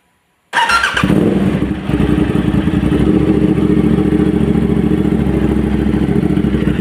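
An Aprilia RS 660 motorcycle with an SC Project full exhaust starts after a moment of silence, cranking briefly, then settles into a loud, raspy, rapid-pulsing idle close by.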